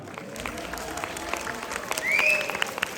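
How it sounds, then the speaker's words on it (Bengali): An audience at a Bengali New Year fashion show in New Jersey breaks into hearty applause, clapping that swells toward the end, with crowd voices and a few whistles mixed in. "আমরা কি একটা জোরে হাততালি দিতে পারি কিনা?"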